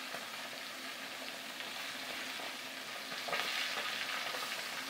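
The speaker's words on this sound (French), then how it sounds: "ce sont nos poissons qu'on est en train de frire avec notre nouveau poêle de chez Electro-Dépôt" Two sole fish fry in a new pan with a steady, close, moderate sizzle and crackle that grows slightly louder near the end.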